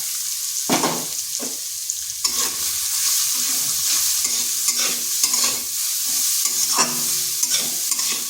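Grated carrot fries in a pan while a spatula scrapes and stirs in repeated strokes over a steady bright sizzle, close and continuous, with no talk.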